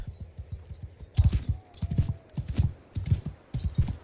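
Horse hooves clip-clop in Mount and Blade II: Bannerlord, a steady galloping rhythm of close, punchy thuds that starts light and grows heavier after the first second, with no voices over it.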